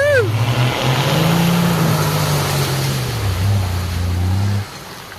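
A turbo diesel Nissan Patrol revs hard as its wheels spin in a bog hole, a loud, steady engine drone rising and falling in pitch with splashing mud, then cutting off near the end.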